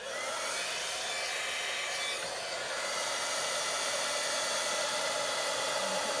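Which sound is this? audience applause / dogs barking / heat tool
heat tool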